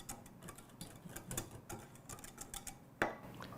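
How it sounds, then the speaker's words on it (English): A whisk ticks rapidly against a bowl, mixing pumpkin tart spices (cinnamon, ginger, cloves, nutmeg) with table salt, a quiet, fast, steady clicking with one sharper knock near the end. "Whisk that together."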